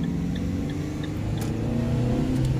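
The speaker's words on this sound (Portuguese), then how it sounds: "Já vai aumentar o giro do motor." A manual car during a driving lesson, shifted into second gear, its engine revving up in a steady, close whirring rise with road noise and no talk.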